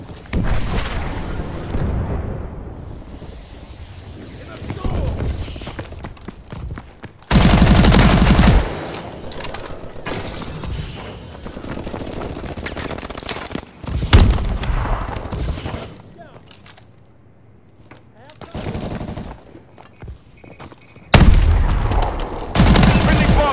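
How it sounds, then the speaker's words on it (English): Rapid gunfire, booming blasts and a chain of heavy explosions from an airstrike in Call of Duty: Advanced Warfare, set in Detroit, come in loud bursts, with quieter stretches of distant shooting and rumble in between. "Friendly bombing run clearing the way."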